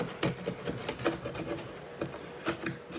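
Chisel scraping cardboard honeycomb inside a hollow core door, a series of short rasping strokes at an uneven rhythm, close but quiet, with no talk.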